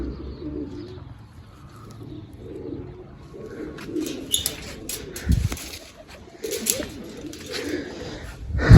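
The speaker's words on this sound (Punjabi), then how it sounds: "ਇੱਕ ਇੱਕ ਕਰਕੇ ਆਪਾਂ ਸਾਰੀਆਂ ਕਬੂਤਰੀਆਂ ਬਾਹਰ ਕੱਢ ਦਿੰਨੇ ਆ" Female pigeons released one by one from a loft, with continuous low cooing close by, joined by sharper bursts of flapping wings and scuffling toward the end.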